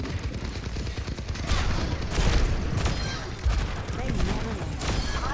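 Rapid gunfire from Ashe's rifle in the video game Overwatch, a dense continuous barrage of shots with booming impacts, mixed with game effects and faint voices.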